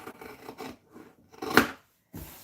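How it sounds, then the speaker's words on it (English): Scissors cut through shirt fabric in a few close, crisp snips, each a short rasping slice separated by brief pauses. "I'll use my scissors now because I don't want to go ahead and mess up this fabric"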